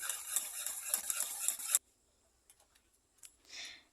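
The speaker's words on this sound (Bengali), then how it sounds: "দুই থেকে তিন মিনিট ধরে দুধের সাথে ভালোভাবে মিশাতে হবে" A spoon or whisk stirs egg into milk for a milk pudding, scraping briskly and steadily for under two seconds before stopping, followed by a few faint clicks and a short soft rustle.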